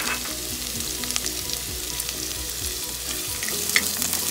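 Onion and garlic frying in a pan for a sardine and bok choy sauté, a steady loud sizzle with occasional scraping stir strokes throughout, no voices.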